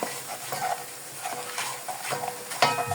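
Ground coriander and turmeric fry in a pan while being stirred for a spaghetti sauce, giving a soft sizzle with scraping spoon strokes and occasional light clinks close by.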